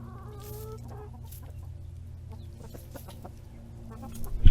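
Chickens cluck softly in a farmyard during an ice storm, while a rooster and a turkey are close by. A steady low hum runs underneath, and a sharp bump comes at the very end.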